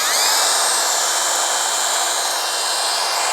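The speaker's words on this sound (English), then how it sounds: "I have a power drill here" A corded 3/8-inch power drill whines continuously at full speed, a loud, close, steady high-pitched motor hum with no pauses.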